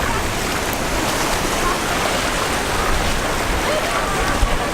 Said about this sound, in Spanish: Ya estamos caminando hacia el templo con las piernas en el agua.